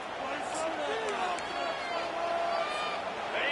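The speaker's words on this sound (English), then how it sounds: "the noise from this crowd on 3rd and 4" A dense crowd roars continuously in a college football video game as a 3rd-and-4 play approaches, a steady wash of stadium noise.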